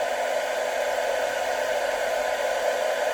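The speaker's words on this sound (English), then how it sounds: "we'll leave the hairdryer on it a bit" A hair dryer blows steadily at close range into a BMW E31's fogged-up headlight, a constant airy whoosh with a motor hum, running alone without pause.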